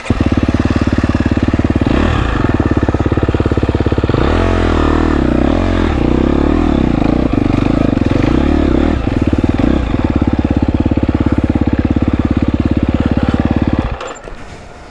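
A GasGas EX250F dirt bike engine runs loud and close with a rough, uneven idle and sputtering revs that rise and dip, finally cutting out and falling silent near the end.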